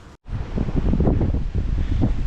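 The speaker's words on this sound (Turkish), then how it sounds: "Şu rüzgar sesini de duyabiliyorsunuz" Strong wind roars and buffets close to the microphone, a steady rushing with gusty surges throughout.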